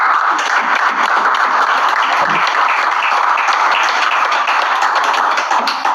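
A church congregation in Yaoundé claps steadily and densely in praise of the Lord, a loud, continuous wash of many hands with no voices standing out.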